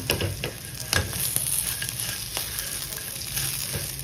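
Green chillies roasting in a pan for Kolhapuri thecha, a continuous close sizzle with scattered crackles and occasional stirring knocks, no talking.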